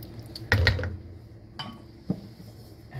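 A utensil scrapes and clinks against a pot of lamb trotter and sugar bean curry in a few brief bursts, with quieter stirring and bubbling between them.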